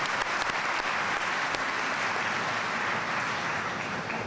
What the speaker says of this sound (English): So please join me in a round of applause